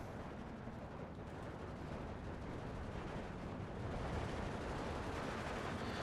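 Mortar and tank gunfire in the Steel Division 2 war game, with a mortar firing on an ISU-152 and KV-1E and T-34 tanks in action, forming a dense, continuous wash of distant booms and rumbling battle noise.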